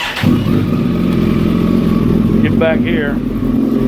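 Motorcycle fitted with a Hindle carbon exhaust can, engine running loudly and steadily close by with throttle revving, a person briefly speaking over it.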